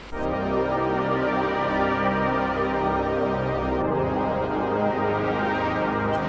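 Huge, lush synth pad chords, sustained and dense, ringing continuously at steady loudness with a chord change partway through.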